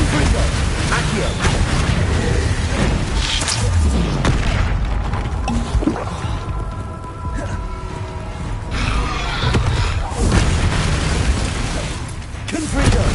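Confringo spell blasts go off one after another in Hogwarts Legacy, a series of punchy booms and crackling bursts mixed with mechanical clanks, loud and close, with a voice talking over them.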